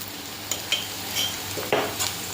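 Fried onions with green chili and turmeric are stirred in a pan, giving soft sizzling and a few scraping strokes of a spoon over roughly two seconds, with no voices.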